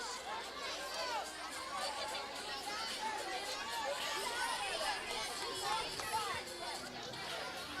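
A crowd at a Halloween parade yelling and cheering, a steady, dense wash of many voices shouting and chattering throughout, fairly distant and continuous.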